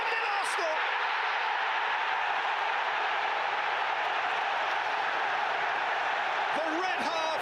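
Arsenal supporters in a packed football stadium roar and applaud after a goal against Manchester City, a dense, sustained wall of crowd noise that holds loud and unbroken throughout.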